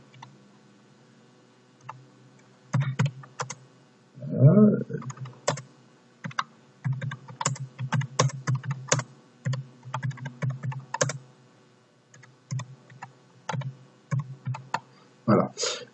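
Computer keyboard typing an address in bursts of quick close keystrokes, with pauses between runs and a few louder single key taps; quiet overall with brief talk.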